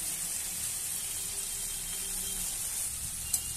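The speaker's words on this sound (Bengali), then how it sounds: "এবার কড়া চিংড়ি মাছগুলো দিয়ে দিয়েছি ভাজবার জন্য" Prawns fry in hot oil in a wok, giving a steady, even sizzle with a soft hiss that stays level throughout and has no voices over it.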